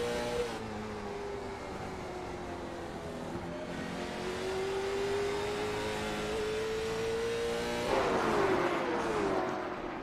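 A late model stock car racing at Hickory Motor Speedway, heard on board: the engine drones loud and steady at high throttle, pitch climbing slowly, then lifting and rising again near the end.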